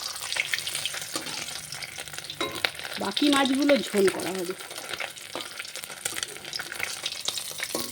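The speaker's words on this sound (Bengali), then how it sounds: "এই মাছটা একটু কড়া করে ভাজতে হবে একদম লাল লাল করে ভাজতে হবে" Fish pieces fry in hot oil in a pan, a continuous close sizzle with stirring and scraping sounds, while a voice briefly speaks over it.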